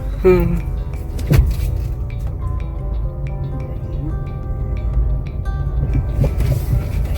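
During a driving lesson, a car pulls away in first gear as the clutch is eased up. A low, steady engine rumble fills the cabin, with a few small clicks and knocks over it.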